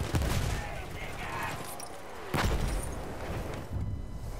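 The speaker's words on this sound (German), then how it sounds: "Alter, da wird nur angemörsert." Mortar and grenade fire in the video game Battlefield 1, a barrage of distant and mid-range blasts and gunfire with one sharp near explosion midway, with a voice talking over the din.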